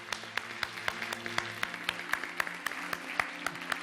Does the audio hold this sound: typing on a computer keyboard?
no